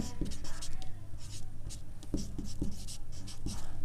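A pen scratches across paper while a math solution is written out, with short strokes and taps in a steady run close by, under a low background hum.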